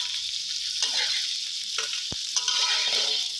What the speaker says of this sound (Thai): แล้วก็ นำหอมกับกระเทียมนะครับ ลงไปคั่วนะครับให้หอมนะครับผม